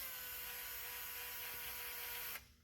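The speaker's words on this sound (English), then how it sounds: "Then I'll just take my drill, put a little pilot hole here." A steady high-pitched whine of a power drill boring a pilot hole, running continuously for a couple of seconds, then stopping abruptly.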